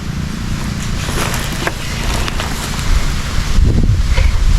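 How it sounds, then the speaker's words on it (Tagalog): Strong wind roars continuously outdoors at night, a steady broadband rush with low rumbling buffets against the microphone that swell louder toward the end, with faint scuffs and thumps beneath it. "Yan o, grabe yung hangin no."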